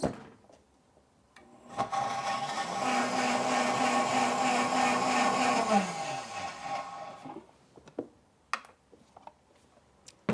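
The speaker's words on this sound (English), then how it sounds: "And then we blend." A blender purees a dairy-free bechamel sauce. Its steady whirring motor runs for about five seconds and then winds down in pitch, followed by a few light clunks.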